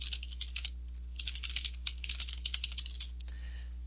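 A username and password are typed on a computer keyboard, a fast, uneven run of crisp key clicks that is close and fairly quiet over a steady low hum.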